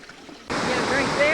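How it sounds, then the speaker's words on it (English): A waterfall pouring where travelers stop for a drink, a steady broadband rush that cuts in abruptly after a quiet start and then holds loud and constant. "This is the waterfall that we're just going to get a drink from."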